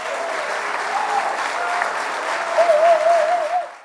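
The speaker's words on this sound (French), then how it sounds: "Je vous demande d'applaudir chaudement l'invité d'honneur" Audience applause for the guest of honour at a literary prize cocktail for writers, a steady wash of clapping from a room of people with a brief tonal whistle-like sound near the end.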